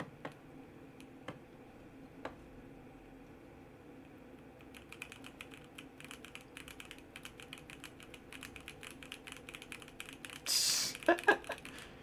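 A computer keyboard is typed on in a quiet room, with sparse key taps early that build into a rapid, continuous clatter of keystrokes, close and fairly soft, followed by a short rustle and a few louder clicks near the end.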